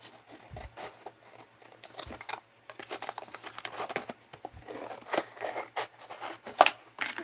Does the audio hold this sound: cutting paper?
yes